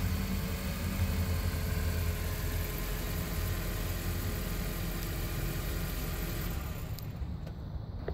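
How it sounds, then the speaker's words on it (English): A 2016 Honda Civic Touring engine idles steadily after a remote start with a low, continuous rumble, close by, fading slightly near the end. "you can remotely start and stop the engine"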